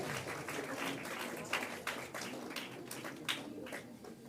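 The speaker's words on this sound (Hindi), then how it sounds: "तालियों से सर का स्वागत कीजिए" An audience at a university constitution celebration claps to welcome a guest: steady, moderately loud applause of many hands with a few sharper accents, no talking over it.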